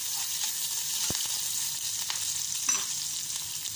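Onion and chili sizzling as they are stirred and fried in a pan, a continuous soft crackle with a couple of sharp utensil clicks, close but fairly quiet, no talking.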